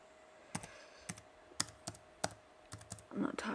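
Keys clack on a computer keyboard in slow, uneven single taps close by, with a quicker cluster of strokes at the end.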